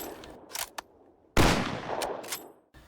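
M24 bolt-action rifle from a Minecraft guns mod: loud, close synthetic shot bursts with a sharp crack and short decaying tail, preceded by smaller clicks and ending in a brief mechanical rattle.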